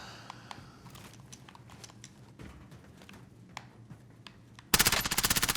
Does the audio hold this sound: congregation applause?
no